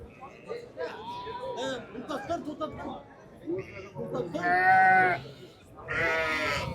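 Several sheep and newborn lambs bleat loudly nearby at a livestock market in Qarshi, Uzbekistan, with long wavering calls standing out over people chatting in the background.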